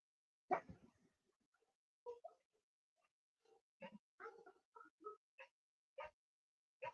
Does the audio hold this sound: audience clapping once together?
no